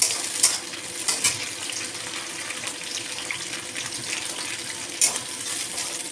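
Onions frying in a pan for a simple chicken curry hiss in a steady, watery sizzle, with a few sharp clicks of a spatula against the pan, close and without talk.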